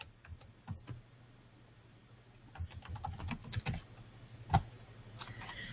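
Someone types a search on a computer keyboard, light quick keystrokes in short clusters with pauses between, close and quiet, one sharper tap near the end, with no voices.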